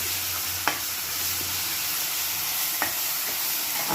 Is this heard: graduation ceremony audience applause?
no